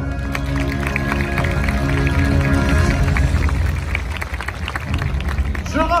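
An audience claps and cheers in the stands at an outdoor diving show at Parc Astérix, a dense, continuous wash of applause with crowd murmur that thins slightly near the end.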